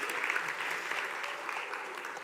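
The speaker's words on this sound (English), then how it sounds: "I'm just going to give myself a round of applause for that one." A burst of steady clapping, like a small group applauding at a church Christmas service, continuing evenly throughout without voices.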